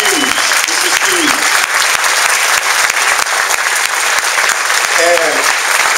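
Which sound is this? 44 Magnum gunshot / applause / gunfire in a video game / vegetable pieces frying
applause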